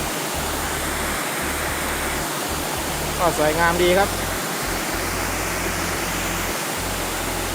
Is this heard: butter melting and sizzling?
no